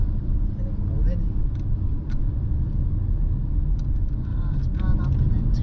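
Busy San Francisco street in a traffic jam: steady low rumble of idling and creeping cars, with faint brief higher noises scattered through, continuous and fairly loud throughout.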